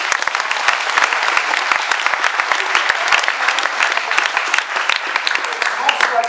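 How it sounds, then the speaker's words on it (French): A studio audience at a French talk show recorded in Lyon claps loudly and close, a dense, steady burst of applause that carries on without pause. "on vous applaudit quand même"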